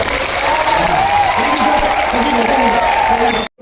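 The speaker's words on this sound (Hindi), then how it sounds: "एक बार दिल से ताली बजाओ।" An audience claps in a lecture hall during a Hindi motivational talk, a dense, loud and sustained round of applause that cuts off abruptly at the end.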